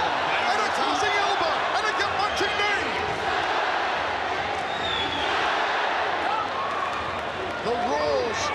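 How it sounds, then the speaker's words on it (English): A big crowd roars continuously at a ONE Championship Muay Thai fight, loud and sustained throughout with a commentator talking over it. "The roars of this crowd."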